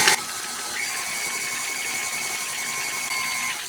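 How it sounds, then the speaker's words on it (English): A stand mixer with a paddle attachment beating mocha cupcake batter on medium, giving a steady, close mechanical whir with a faint rhythmic rattle that holds evenly throughout, with no voices. "we're going to beat on medium until it's light and fluffy. Notice I'm using my paddle attachment"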